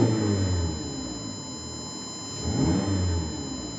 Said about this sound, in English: Let me go ahead and rev the engine.